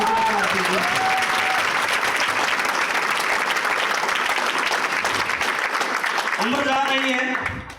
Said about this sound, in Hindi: तालियां आपने कम बजाई